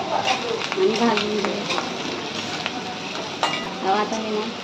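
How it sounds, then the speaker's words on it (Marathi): Onion and curry leaves frying in hot oil in a pan for a jackfruit dish, a loud, close, continuous sizzle with scraping strokes from stirring throughout. "आता कांदा टाकू कढीपत्ता कांदा कढीपत्ता आता थोडासा आपण फ्राय करून घेऊया"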